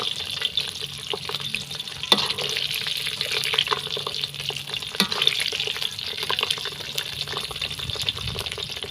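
Pork fat frying into cracklings in hot oil, a continuous, dense bubbling sizzle heard up close, with occasional faint clicks of stirring throughout.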